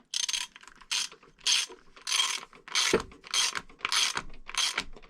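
A wrench ratchets repeatedly as it tightens a 14 mm lock nut on an Arrma Kraton 8S wing mount. Rapid, close ratcheting bursts come in steady strokes, about eight over five seconds, with no voices.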